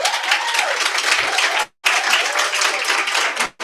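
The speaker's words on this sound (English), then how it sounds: "Can we clap for Lillian?" An audience at an education launch event claps for a staff member in two sustained bursts of dense, steady applause, each cut by a brief pause, close and loud.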